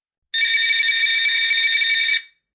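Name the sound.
telephone ringing after dialing, drama sound effect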